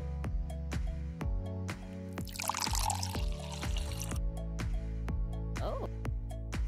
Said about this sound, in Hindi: मैं जग को साफ पानी से भर सकती हूँ।